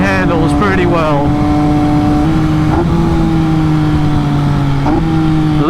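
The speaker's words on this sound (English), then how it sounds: "Listen to those downshifts." An MV Agusta Brutale 800 RC motorcycle engine drones loud and close, its pitch sliding down as it downshifts, with sharp rev blips punctuating the steady roar.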